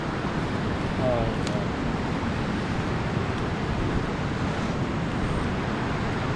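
A fast, strongly flowing provincial river rushes in a steady broadband roar with gusty wind on the microphone, continuous and close, with no voices.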